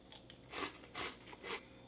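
Light, vanilla-flavored cookies from a German 24-hour combat ration are bitten and chewed up close, producing three distinct soft crunches spaced about half a second apart over quiet background.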